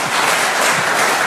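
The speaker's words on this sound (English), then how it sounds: "The applause was so loud that I didn't hear what Norman said" Loud, dense applause from a studio audience at a televised debate, a continuous wash of clapping hands filling the whole stretch without pause.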